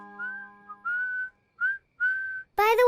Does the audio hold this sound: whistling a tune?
yes